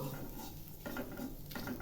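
Semolina with a bay leaf toasting in ghee, stirred in a pan: a soft, quiet sizzle under repeated scraping and light metallic knocks of the spoon, close and continuous.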